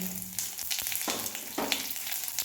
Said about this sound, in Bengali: এখানে ছোটো চামচের এক চামচ তেল দিয়েছি আর এখানে দিয়েছি কটা গোটা জিরে অল্প আর একটা তেজপাতা ছিঁড়ে এটাকে দিয়ে ফোড়ন দিয়ে দেবো